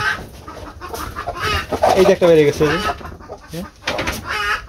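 Hens cluck and squawk around their nesting spot where they lay and hatch eggs, several short close calls rising in the middle, while a person talks over them.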